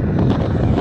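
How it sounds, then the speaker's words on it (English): Loud, steady wind buffeting a microphone outdoors, a continuous low rumble with no voices. "it's windy out here"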